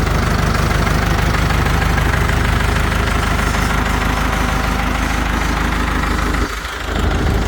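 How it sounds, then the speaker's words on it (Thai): A Ford 6600 tractor (T3) diesel engine idles smoothly and steadily, close and loud, with a constant low rhythmic chug that dips briefly near the end. "ต่อฟังเสียงเครื่องดูครับ เเครื่องนิ่มๆนะฮะ"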